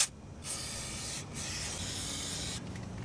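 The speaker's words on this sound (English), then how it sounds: "with a little bit of a brake parts cleaner, I'm going to spray down the hub here" A can of brake parts cleaner sprays onto a Mercedes C300 front wheel hub in long continuous hissing bursts, briefly pausing between them, close and loud with no voices.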